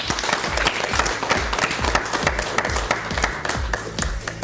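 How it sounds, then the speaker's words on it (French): Loud, lively applause from a theatre crowd in Montpellier greeting two actors, with many sharp individual claps standing out over a dense wash of clapping. "Merci de les applaudir."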